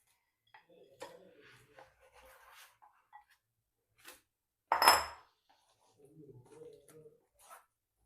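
A metal spoon scrapes and clatters against a pan as fried ingredients are stirred for chilli chicken in a home kitchen, with one loud clang in the middle and quieter scraping at the start and end.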